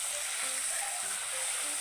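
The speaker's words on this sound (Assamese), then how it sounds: "মই এইখিনি আগতে ভাজি লওঁচোন।" Kathfula mushrooms frying in hot oil in a home kitchen, giving a steady, close, hissing sizzle that holds evenly and is heard on its own.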